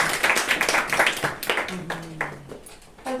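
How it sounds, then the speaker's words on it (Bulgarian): Brief audience applause at a school presentation event, a few seconds of close, uneven clapping from a small group, thinning out as a voice begins to speak over it. "Мисля, че тук аплодисментите трябва да са за научния ръководител."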